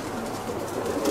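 Racing pigeons at a loft in Egaleo, Greece, coo softly and continuously at close range, a low, murmuring burble with no voices over it.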